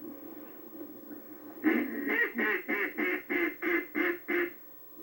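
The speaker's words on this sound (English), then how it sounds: "this call will also produce a real medium to low pitch by simply changing your voice here" A duck call blown at medium to low pitch gives a run of about nine evenly spaced, loud quacks close up, after a softer lead-in.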